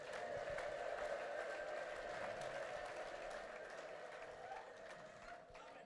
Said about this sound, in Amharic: ለጌታ ታላቅ እልልታና ጭብጨባ